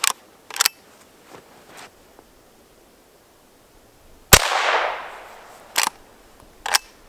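A single sharp gunshot from a hollow point round fired at an iPad in a protective case, followed by a noisy hiss of debris trailing off; softer handling knocks and clicks come before and after.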